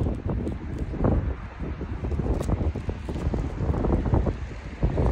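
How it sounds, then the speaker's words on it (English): Outdoor wind buffeting a microphone during a roadside burger lunch stop on a motorcycle trip, a steady low rumble with gusty bursts throughout, no speech. "I apologize for the wind."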